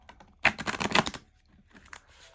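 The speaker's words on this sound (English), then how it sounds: "I'll shuffle a little bit more so you guys can see the shuffling" A tarot deck is shuffled by hand, with a burst of rapid riffling card clicks up close, then a pause and a few softer shuffles.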